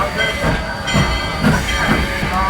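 A Cog Railway steam train in Colorado pulls away, giving a steady rumbling roll with hissing and rhythmic clanking pulses, close and fairly loud, with no talk.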